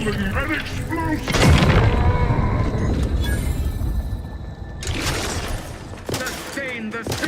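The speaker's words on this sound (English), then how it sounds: "An explosion." Loud booming blasts burst out amid rumbling game sound effects, with a voice speaking over the action.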